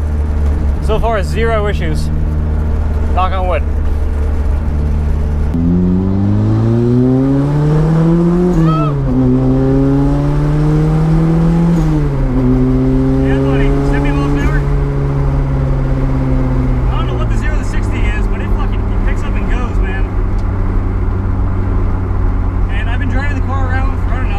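A turbocharged Mazda Miata engine drones loudly from inside the car while driving, its pitch climbing and falling through the revs with turbo whistle, under someone talking at the start and end.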